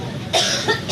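Two or three quick, harsh coughs burst out close and fairly loud in rapid succession, each a short breathy hack.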